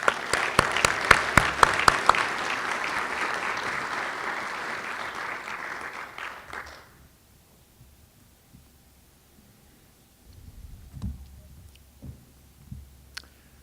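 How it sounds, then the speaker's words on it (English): A dinner audience at a 2016 Hall of Fame event gives a loud, dense round of applause that fills the first seven seconds, then stops abruptly, leaving quiet room noise with a few faint knocks and shuffles. "One more round of applause for Doug"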